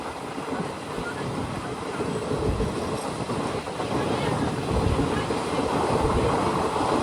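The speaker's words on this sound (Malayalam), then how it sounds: "ട്രെയിൻ ഇപ്പോൾ ധലൈ ജില്ലയിലെ അംബാസയിലേക്ക് ഇതാ എത്തുകയാണ്" The Kanchanjungha Express, in sleeper class, rumbles continuously with faint wheel clatter near Ambassa, Tripura, heard from inside the carriage with low background murmur.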